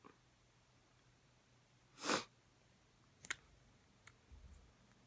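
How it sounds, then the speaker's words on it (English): A single quick sniff, fairly close and quiet, followed by a few faint clicks and small breathy noises in an otherwise still room. "So, excuse my sniffles."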